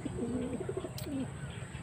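Pigeons coo softly in short, rolling calls close by, over a steady background hum.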